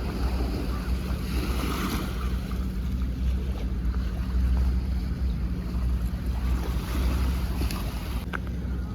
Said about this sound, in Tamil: பக்கத்தில் வந்து கடல் எல்லாம் பயங்கரமாக அடிக்குது